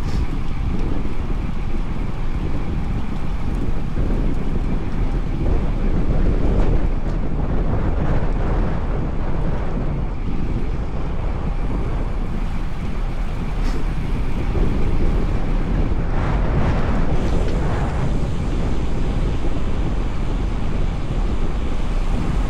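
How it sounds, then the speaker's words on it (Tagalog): Strong wind buffets the microphone during a long motorcycle ride across a bridge, a steady loud roar with engine and road rumble underneath, gusting louder at moments and continuing without pause. "Ang lakas ng hangin."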